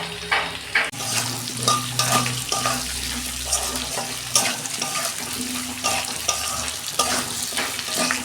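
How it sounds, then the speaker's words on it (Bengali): Sliced onion fries in hot oil with already fried taro in a pan, giving a steady sizzle broken by repeated stirring scrapes and clinks, with no talking. "পেঁয়াজ দিচ্ছি, একটা বড় পেঁয়াজ কেটে রেখেছিলাম।"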